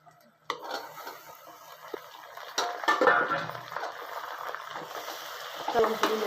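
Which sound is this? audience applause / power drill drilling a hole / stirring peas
stirring peas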